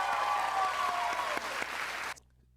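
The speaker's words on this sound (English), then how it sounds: "why are people losing their minds and clapping?" Applause and cheering from an audience, a dense bright wash of clapping with excited voices that stops abruptly near the end.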